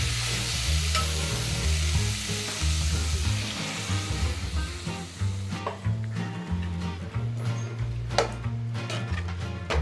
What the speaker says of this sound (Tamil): கோஸ் அஞ்சு அஞ்சு நிமிஷம் நல்லா வதக்கிடணும்